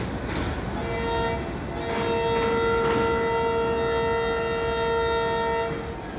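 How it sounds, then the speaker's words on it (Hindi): A Sir Syed Express train sounds a long steady whistle at Rohri station in Pakistan, a sustained harmonic tone lasting several seconds over a broad rumble of station and engine noise. "एक्सप्रेस ने भी विसल दे दिया है"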